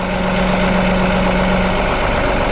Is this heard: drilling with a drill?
no